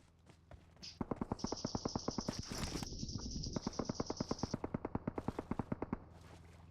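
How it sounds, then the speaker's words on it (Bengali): Sustained automatic gunfire in the mobile battle royale game BGMI on the Livik map: a loud, rapid, evenly spaced stream of shots lasting several seconds, with one brief break, over a steady high electronic whine. "গুলি চলছে কোথায়?"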